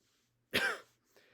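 A single short, harsh cough or throat-clearing burst from a character coughing up smoke, heard close up against near silence.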